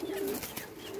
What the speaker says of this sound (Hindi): उस स्टैंड है कबूतरों के माशाल्लाह अच्छे कबूतर हैं।